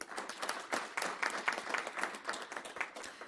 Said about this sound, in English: Can we pause and give them a round of applause?